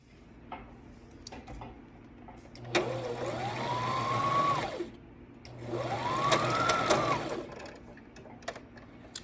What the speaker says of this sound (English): I'm just gonna press on my presser foot until it catches that thread, and I'm gonna pull it through